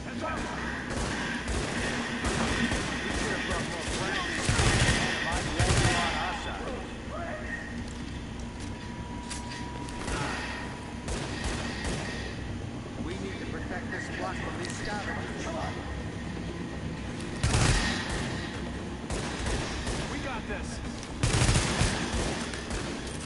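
Video game gunfire crackles through a firefight, with bursts of rapid shots and heavy thumps recurring every few seconds, loud against a busy background while a player talks throughout.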